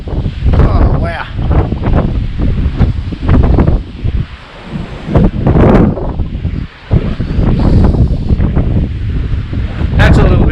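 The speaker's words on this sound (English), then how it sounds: "it's very windy up here by the sound" Strong wind gusts across an exposed stretch of the south-west Western Australian coast, roaring and buffeting close to the microphone in surging waves that rise and ease over several seconds with no pauses.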